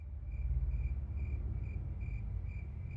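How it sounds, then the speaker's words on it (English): Steady night insect chirping repeats in short regular pulses, a high trill about twice a second over a low background hum, with no voices. "Takes me a while to realize it's the sound of some bug."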